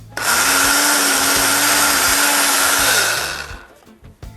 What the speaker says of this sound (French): Mais mixe ça avec l'ail et l'oignon